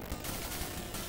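In the arcade shooter Twin Cobra, the basic pea shooter fires a dense, continuous rattle of rapid shots, loud and unbroken, mixed with game noise.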